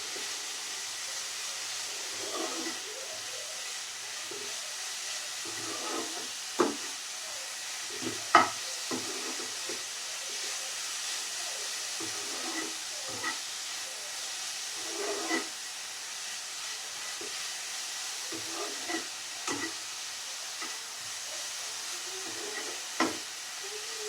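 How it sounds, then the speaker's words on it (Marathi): Jaggery and grated coconut sautéing in ghee for a modak filling give a soft, steady sizzle. Faint scrapes and taps from stirring recur throughout, with no voices. "थोडंसं असं तुपावरती परतून घ्यायचं. थोडा गूळ, फक्त गूळ आणि खोबरं एकजीव होऊन तोपर्यंत."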